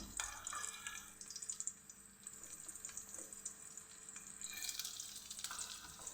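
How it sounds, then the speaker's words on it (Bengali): Minced garlic frying in melted ghee for a fish bharta, a soft, steady sizzle and hiss close by with light stirring, rising in brightness toward the end, no voices. "এখন আমি কিছুটা রসুন কুচি দিয়ে দিলাম"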